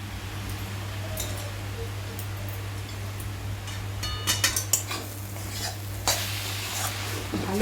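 A momo masala sauce with chilli, soy and tomato sauces is stirred in a sizzling pan. Steady scraping and clinking of a spoon against metal sits over a constant low hum, with a few sharper clatters near the end.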